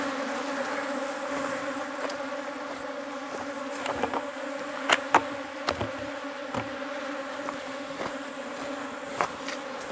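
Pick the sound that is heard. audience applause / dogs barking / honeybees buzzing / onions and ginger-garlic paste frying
honeybees buzzing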